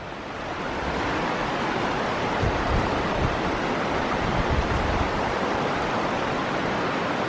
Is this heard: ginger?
no